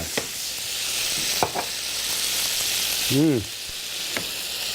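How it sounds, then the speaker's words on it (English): Balsamic vinegar hits a hot pan of pork scallopini with green onion, giving a steady close sizzle and frying hiss that runs throughout, with a few clatters of utensil contact and a brief bump from stirring. "when I put balsamic vinegar in a hot pan, what happens, Bob?"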